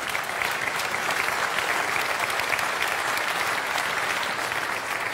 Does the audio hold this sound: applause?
yes